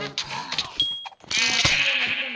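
A sheep bleats a couple of times in Minecraft amid game-like electronic tones and blips, close and fairly clear, with no talking.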